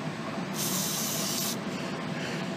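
WD-40 sprayed onto a small rubber bushing during a rack and pinion replacement on a John Deere Gator 2x4: a single steady hiss of about one second, close and fairly loud, set against quiet workshop background.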